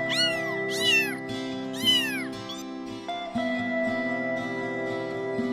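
A stray cat meows loudly several times in quick succession over soft sustained background music, then the meowing gives way to the music alone.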